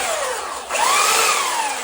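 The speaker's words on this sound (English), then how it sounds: "So what I'm gonna do is I'm gonna use the belt sander, Joey, and it's called a belt sander because" A belt sander whines steadily up close on driftwood, dipping briefly before rising again as it bites into the surface, a continuous gritty mechanical drone.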